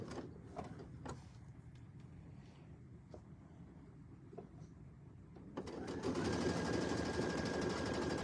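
Sewing machine stitching corner to corner across a tabletop banner, starting with quiet low mechanical hum and ticks, then a louder steady whirring run for the last few seconds.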